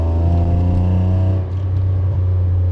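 A Toyota Aygo with an aftermarket exhaust rumbles loudly up close, a deep droning rev that dips briefly and then settles back to a steady growl, with mini pops and bangs.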